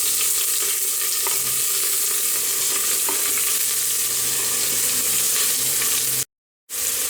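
Thinly sliced onions sauté with fennel seeds in hot oil for mutton mandi, making a loud, continuous sizzle with close stirring scrapes, briefly cutting to silence near the end.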